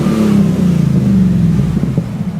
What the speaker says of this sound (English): It's a short exhaust, but it's all TIG stainless ceramic coated with dual MagnaFlows and a crossover.